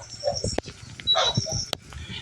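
Dog barking in the Call of Duty video game at a crash site map, a few short sharp barks and yelps mixed with game sounds across a brief moment.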